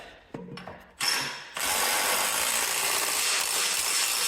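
A 1 1/8 wrench tightens a front end bolt on a plow day garden tractor, giving a few sharp mechanical clicks followed by a sustained, dense ratcheting rasp close by.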